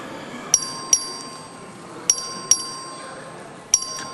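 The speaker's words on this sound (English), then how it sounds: "The clerk will ring the bell." A legislative chamber's record-vote bell, rung by the clerk, strikes in sharp metallic dings in uneven pairs, each ringing out briefly over a faint murmur of room noise.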